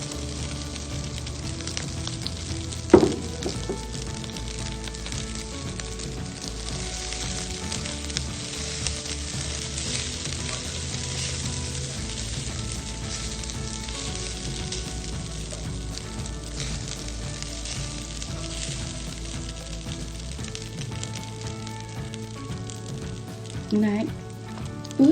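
Cooked rice fries in a pan for kimchi fried rice, giving a steady, close sizzle with a couple of brief utensil clatters.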